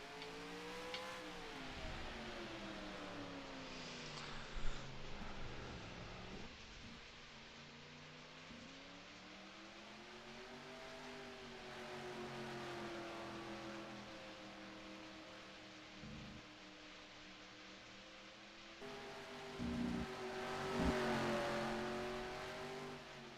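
Race car from the NASCAR Racing 2003 video game lapping the Circuit of the Americas track, a steady engine drone with rising and falling pitch through gear changes and corners, moderately loud throughout with brief revving bursts.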